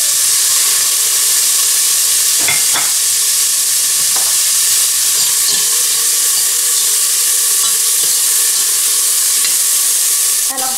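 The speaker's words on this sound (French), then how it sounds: "Je fais revenir les oignons." Onions and garlic frying in a hot pan, a loud, continuous close sizzle with occasional scraping stir sounds and small pops layered over it.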